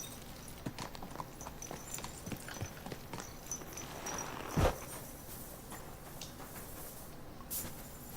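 A horse walks in the medieval video game Kingdom Come: Deliverance II, its hooves clopping in a steady, moderately close rhythm over a low ambient background, with one louder thud partway through.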